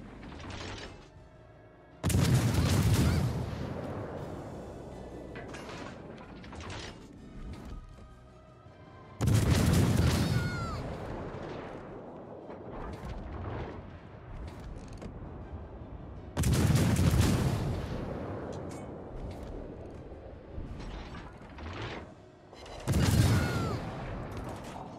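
Warship main guns firing HE shells in World of Warships: Legends, four loud booming salvos spaced several seconds apart, each with a heavy blast and rumbling tail, with quieter mechanical sounds between.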